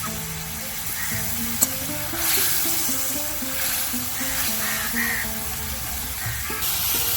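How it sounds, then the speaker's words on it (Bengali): Spice paste for an eggplant dish frying in a pan after mustard oil is sprinkled over it, with a steady close sizzle that swells briefly, plus an occasional clink of a spoon. "ওপর থেকে একটু তেল ছড়িয়ে দেওয়া হচ্ছে আমরা সর্ষের তেল দিচ্ছি"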